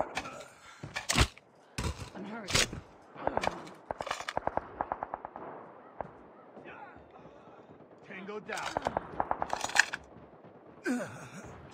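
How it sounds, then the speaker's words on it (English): A sentry gun firing in Call of Duty Mobile on the Scrapyard map: rapid bursts of close gunfire in several volleys, mixed with explosions and game voice announcements. "Sentry gun deployed."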